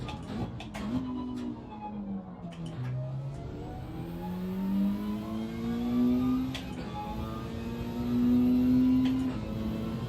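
A race car engine at the Circuit de Catalunya revs steadily, its pitch rising and falling in repeated sweeps over a constant low rumble, fairly close and moderately loud.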